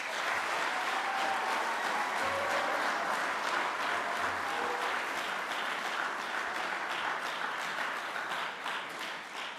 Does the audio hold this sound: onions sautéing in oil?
no